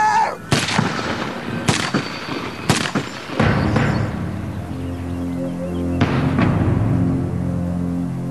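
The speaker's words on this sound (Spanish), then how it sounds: "les dispara con una lluvia de balas" Several sharp gunshots crack out at uneven intervals, loud and close, followed by a lingering low rumble and another shot near the end.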